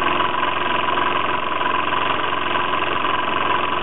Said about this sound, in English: You hear like a tinkling sound in the background. That's the chimney moving around.